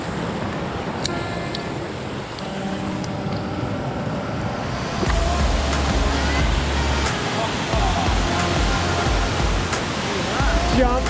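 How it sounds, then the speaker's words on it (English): A big waterfall in Cape York, Australia, giving a steady, loud broadband roar of rushing water that grows heavier partway through, with faint distant voices. "they're pretty big, those falls down there"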